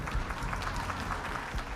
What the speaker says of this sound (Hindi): फिर अचानक वहां तालियों की गूंज गूंजने लग गई।